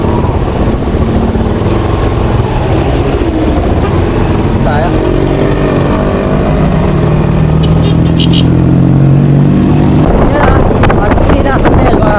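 Road traffic in Marikina in the Philippines: a steady engine drone from passing cars and motorbikes with wind buffeting the microphone, while someone talks briefly.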